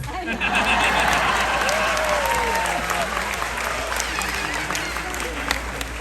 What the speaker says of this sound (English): Applause for myself.